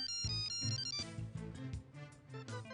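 A phone ringtone plays a bright, repeating electronic melody, close and clear, ringing without pause and with no talk over it.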